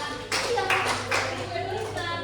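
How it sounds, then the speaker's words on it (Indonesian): A class of children clapping hands in a classroom: a quick burst of overlapping claps starting abruptly, fairly close, with a hum underneath and some voices mixed in. "tepuk tangan."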